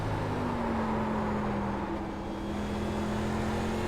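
An ARCA race car drives in a racing video game, a loud steady engine drone with a sustained low tone and a slight dip midway as it slides on corner entry.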